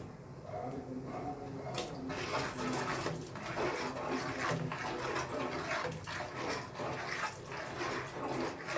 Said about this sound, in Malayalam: ഇനി ഇതിലേക്ക് തൻപാലും കൂടി ഒഴിക്കാം